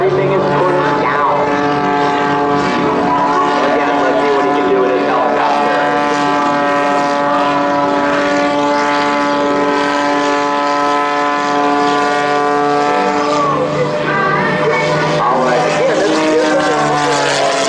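An aerobatic propeller airplane flying a low routine at the 2011 AirPower Over Hampton Roads air show, producing a loud, continuous droning engine and propeller roar whose pitch wavers and shifts near the end.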